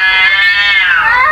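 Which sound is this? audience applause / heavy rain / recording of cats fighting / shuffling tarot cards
recording of cats fighting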